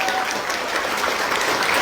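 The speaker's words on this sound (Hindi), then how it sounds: "हम चाहेंगे खड़े होकर के जोरदार ताली" A standing business-event audience claps loudly and continuously, a dense roar of applause from a large crowd at a network-marketing seminar with no clear speech.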